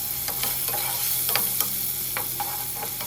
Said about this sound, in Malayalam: ബട്ടറും ഓയിലും ചേർത്തതിന് ശേഷം ഇതിലേക്ക് വെളുത്തുള്ളി ചെറുതായി കട്ട് ചെയ്തതും മഷ്റൂമും ചേർത്ത് കൊടുക്കുന്നുണ്ട്